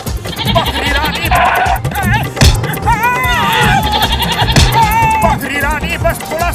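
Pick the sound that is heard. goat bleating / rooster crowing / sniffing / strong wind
goat bleating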